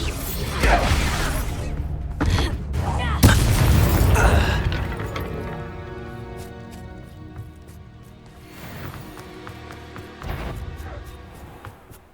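Spell blasts from the video game Hogwarts Legacy: heavy booming bursts and whooshes strike repeatedly in the first few seconds, then fade into lighter magical swells and a ringing tonal backdrop, with voiced incantations mixed in.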